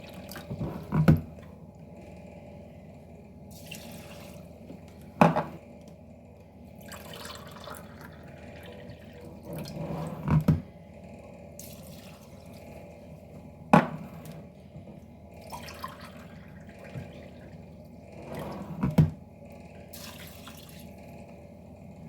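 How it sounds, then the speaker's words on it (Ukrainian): Water pours steadily from a measuring cup into a multicooker pressure cooker bowl of rice for fruit pilaf in a low, continuous trickle, punctuated by several sharp clinks at regular intervals. "Міряю цим же стаканом воду"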